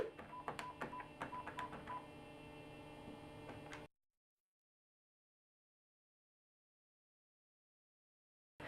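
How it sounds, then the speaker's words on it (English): DTMF keypad tones from an NEC office phone, a quick run of distinct beeps dialed one after another over a steady mains hum for about four seconds, then silence. "you might have to dial 9 on your keypad to grab an outside line and then simply dial your number"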